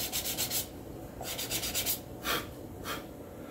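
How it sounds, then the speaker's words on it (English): Edges of a leather holster for an 1872 open-top revolver are sanded by hand in several short rasping bursts with brief pauses between them. The strokes are soft and close. "I had to do a little bit of sanding there to get these edges evened up"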